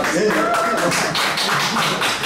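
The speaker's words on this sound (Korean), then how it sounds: "박수!" Loud, close audience clapping at a district concert event, beating in a quick, steady rhythm, with a voice carrying over the claps.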